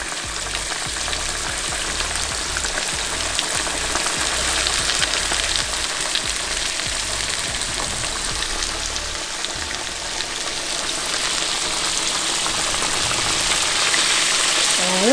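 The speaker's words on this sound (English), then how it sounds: "we're going to let these fry" Ribs frying in hot grease make a steady, dense crackling sizzle that stays close and even throughout, with no talk.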